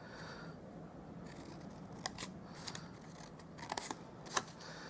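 Paper being snipped with scissors while assembling a Stampin' Up! party favour, a few short crisp cuts in quick clusters near the end, close and fairly quiet over a low background hum.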